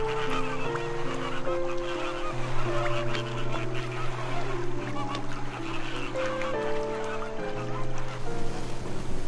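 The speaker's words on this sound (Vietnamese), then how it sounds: "chim hồng hạc" A flock of flamingos calling together, with overlapping nasal, honking calls layered continuously at moderate volume.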